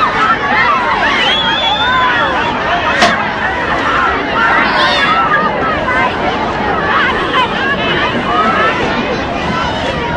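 A Fort Worth, Texas crowd of 1963 jostles and shakes hands with the President as he moves through, a steady babble of many voices and shuffling, with people talking throughout.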